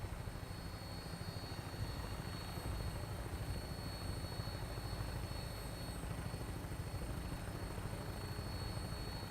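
Steady rotor and engine roar from a Vertibird aircraft lifting off in the video game Fallout 4, a dense continuous drone holding at even loudness throughout with faint whine overtones.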